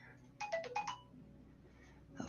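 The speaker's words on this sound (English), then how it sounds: "I'm going to get a text message" A phone text message notification tone: a short, quiet run of four quick chiming notes, followed by low room noise and a faint clack near the end.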